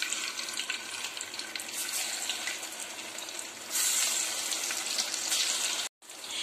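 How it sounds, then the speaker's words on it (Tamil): Chicken pieces for banana-leaf dum biryani fry in hot oil, a loud, steady crackling sizzle that swells partway through and cuts out briefly near the end. "இப்ப எல்லாத்தையும் போட்டு பொரிச்சுக்கிறேன்."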